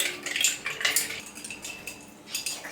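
Ice cubes clink and rattle against a glass as kulukki sarbath is stirred, a close run of bright, irregular knocks and chimes.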